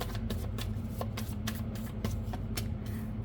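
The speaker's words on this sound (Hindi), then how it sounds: "बहुत सारे कार्ड्स गिरे हैं" Oracle cards shuffled by hand, a steady run of papery riffles and flicks repeating about every half second over a constant low background hum, close and fairly loud.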